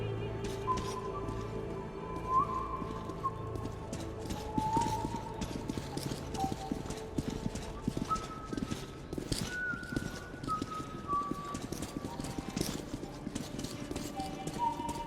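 Horse hooves clip-clop in Metro 2033 Redux, a steady rhythm of fairly close hoofbeats that runs the whole time under a dense mix of game sounds and faint tonal cues.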